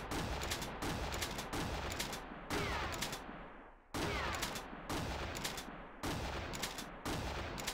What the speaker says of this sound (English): Shoot the can.